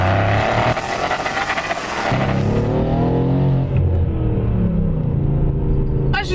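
A rear-wheel-drive Mercedes-Benz C63 AMG First Edition in Sport Plus mode roars up close, its deep rumbling engine note climbing steadily as it accelerates hard.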